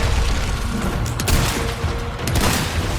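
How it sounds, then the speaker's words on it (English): Riot gun fire in Resident Evil 4 (2023): heavy booming blasts, two standing out, ring over a dense, loud, rumbling mix of game combat noise. "The riot gun seems to be the go-to weapon for Méndez, so don't be afraid to use it"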